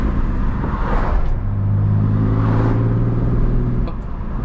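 A BMW M54 inline-six idles, then revs up and holds a steady higher drone before dropping back, loud and close, with no talking.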